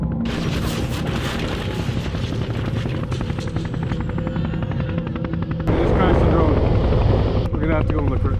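A drone flies close by with a steady, loud buzzing whir that shifts in pitch. Near the end a rougher, louder burst of noise cuts in, and a voice speaks over the whir.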